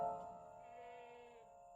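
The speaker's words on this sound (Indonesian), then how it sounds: "Pak, kambingnya berisik" Goats bleat in a pen in one drawn-out, wavering cry that is faint and distant over quiet background noise.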